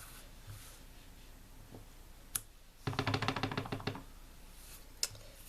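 Rubber stamp pressed onto a card to print leaf images: a burst of quick, close tapping knocks, plus a few isolated sharp taps before and after, in a quiet room.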